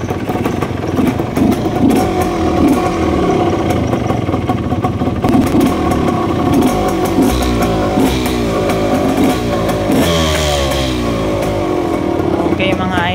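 A 1978 Yamaha DTJ 175 motorcycle runs close by, its engine idling with a loud, uneven two-stroke putter and occasional revs that rise and fall over about thirteen seconds.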